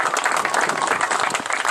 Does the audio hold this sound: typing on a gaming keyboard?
no